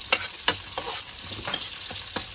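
Onion, garlic and tomato sautéing in a pan, with a steady sizzle broken by sharp scraping stirs of a spatula at an irregular rhythm, close and alone.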